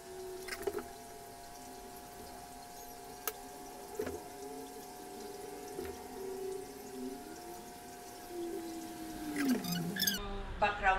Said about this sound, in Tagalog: naririnig nyo na tunog tubig, totoo yun kasi meron akong mini falls dyan sa gilid ng stairs